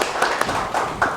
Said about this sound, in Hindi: कृपया उनका तालियों के साथ स्वागत कीजिए।